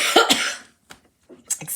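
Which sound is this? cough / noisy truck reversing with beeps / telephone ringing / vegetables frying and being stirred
cough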